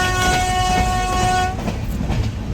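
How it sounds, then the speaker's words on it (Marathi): A train runs while heard from inside a general coach on the way to Rameshwaram, with a steady loud rumble and a sustained horn tone that fades out partway through, no talk. "चला आता रामेश्वरमला चाललोय रेल्वेत बसून जनरल डबा"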